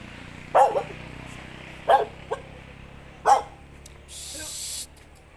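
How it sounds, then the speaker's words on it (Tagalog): A dog barks three times at even intervals, nearby, followed by a brief hissing spray-like noise. "May aso."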